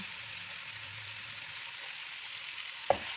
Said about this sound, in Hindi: लहसुन अदरक को अच्छी तरह से भून लेते हैं और फिर सारे मसाले ऐड कर देंगे।